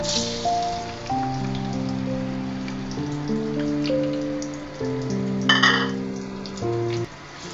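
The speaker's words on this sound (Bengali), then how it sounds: "এখন আমি দিয়ে দিব সয়াবিন তেল কুচি করে রাখা পেঁয়াজ গুলো দিয়ে দিব" Chopped onions frying in hot soybean oil in a heated pot, giving a steady hiss and crackle that runs beneath continuous background music, with a brief brighter burst of sizzle near the end.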